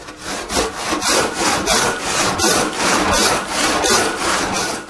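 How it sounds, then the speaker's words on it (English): A hand saw rips lengthwise through a wooden workbench leg in steady rhythmic strokes, about two per second, each a loud rasping push and pull, close and alone with no voices. "we've got two choices to make the rip cut"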